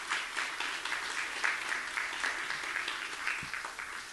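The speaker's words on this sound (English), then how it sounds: "Can we give our centers and student clubs a round of applause?" Audience applause at a university showcase event, a steady wash of many hands clapping, moderately distant and even throughout.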